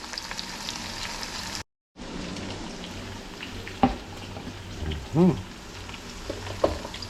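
Fresh okra frying in a pot in a home kitchen, a steady close sizzle with occasional stirring scrapes and clinks, a brief cut near the start.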